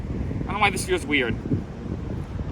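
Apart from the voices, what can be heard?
wind blowing outdoors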